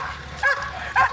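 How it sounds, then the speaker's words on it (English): Two short, sharp barks from a police dog at medium distance, spaced about half a second apart, over a low background rumble. "Police dog Macy in support"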